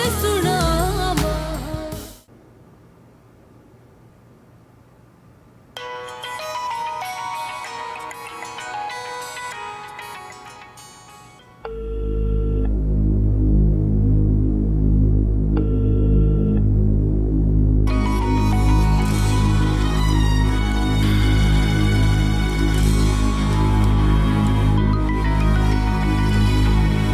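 A phone rings with a repeating electronic melodic ringtone during a scene in a TV drama, loud and close and layered with the background music score.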